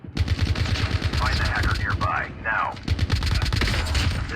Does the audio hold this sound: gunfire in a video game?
yes